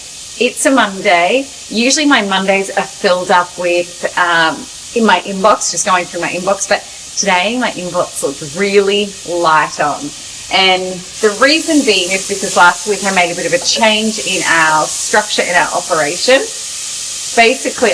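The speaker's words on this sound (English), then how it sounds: "I don't know if you can hear me with all this onion and garlic frying off in the background" Onion and garlic frying in a pan, a steady sizzle running continuously beneath someone talking close to the microphone throughout.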